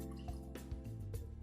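Water being poured into a bowl of cornbread stuffing mix with chicken stock, a steady close liquid stream with gurgling, bubbly shifts in pitch.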